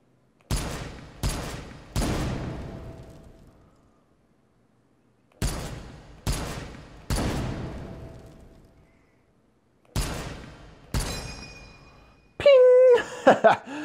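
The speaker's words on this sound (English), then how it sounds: "That is the most classic and satisfying gun noise of all time" M1 Garand rifle shots in a VR shooting game, fired in three quick bursts of three loud, sharp reports each with ringing decay, followed by a brief metallic clatter.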